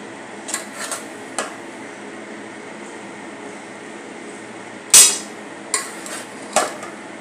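Grated carrot is sautéed in a pan over a low steady background hum, broken by a few sharp metallic clinks and scrapes of the spatula, one louder knock midway.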